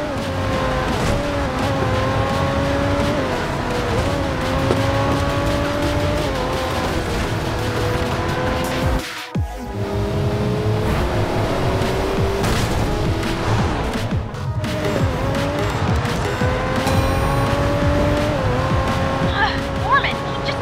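The Lamborghini Reventon racing engine in the video game Racing Master roars steadily and loud, with rising and falling revs, tire squeals and passing cars over about twenty seconds.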